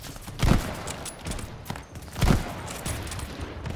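Gunfire in the Call of Duty Vanguard campaign: two heavy, booming shots stand out over a rumbling, busy battle background, moderately loud with no talk.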